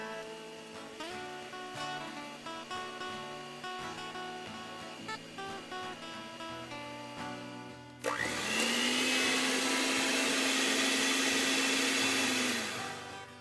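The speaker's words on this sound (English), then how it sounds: "beat it with the mixer on high until it is light and fluffy" An electric mixer beats softened butter on high for buttercream frosting. After a quieter stretch of background noise, a loud, steady whirring motor starts abruptly, runs for about five seconds and then cuts off.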